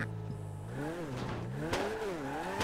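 A Honda Civic EG6 race car with a K20 engine in GTA 5 roleplay revs and shifts repeatedly, the engine pitch climbing and dropping in quick waves, moderately loud with faint background noise.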